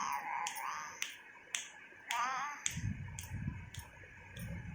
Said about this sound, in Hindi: चुटकी बजा के दिखाना